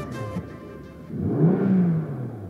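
A car is started for the first time and revved in Sport Plus mode: a low engine rumble swells into a loud, rising rev that peaks and then eases back, close and with no voices.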